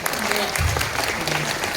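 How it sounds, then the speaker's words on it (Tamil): Audience applause for a film's editor at a movie audio launch event, a brief burst of steady crowd clapping with a faint murmur of voices underneath. "அதுக்கே ஒரு பெரிய கைத்தட்டல் கொடுக்கிறவருக்கு"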